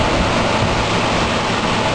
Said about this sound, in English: Good wind.